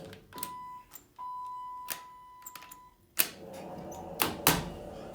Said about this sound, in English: It's a loud door operator.